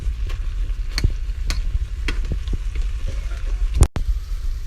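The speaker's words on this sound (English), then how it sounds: "I'm taking a potato masher and just going through and mashing down the clumps of strawberries" Strawberry clumps pushed down with a potato masher in a pan for a sweet and spicy shrimp sauce, repeated soft squelching presses over a steady low sizzle, fairly close, ending with a sharp knock.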